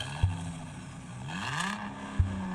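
A car engine revs faintly at a distance, with a single rise and fall in pitch. Two sharp mechanical clicks punctuate the start and end over a low, quiet idle.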